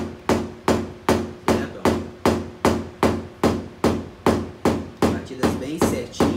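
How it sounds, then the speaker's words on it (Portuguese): A rubber mallet taps steadily on a dented car panel, about fifteen even, evenly spaced thuds in a close, regular rhythm with no talking. "ó, martelo de borracha."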